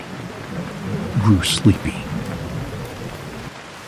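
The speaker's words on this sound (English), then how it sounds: "Outside, the rain continued without mercy." Heavy rain falling steadily outside during a 1955 storm near Mount Pengamun-amun in Indonesia, a constant hiss with a low rumble, heard under a narrating voice.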